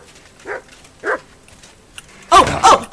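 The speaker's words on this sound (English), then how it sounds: "And whose dog is that?" A dog in the video game Kingdom Come: Deliverance 2 gives a few short barks, then a louder, rougher burst of barking and snarling, with no talking.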